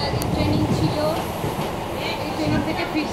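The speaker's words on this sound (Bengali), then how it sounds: "এই দেখো ফাঁকা ট্রেন" A moving passenger train heard from inside an empty carriage: a continuous rumbling roar with faint rail clatter and light squeal, steady throughout, with voices faintly present.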